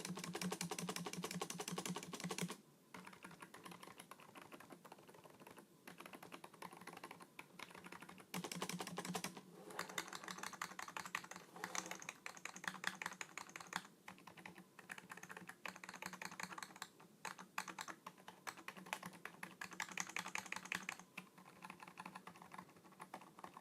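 Logitech MK220 wireless keyboard being typed on, a quiet, continuous run of soft plastic key clicks with brief pauses between bursts, heard close and alone.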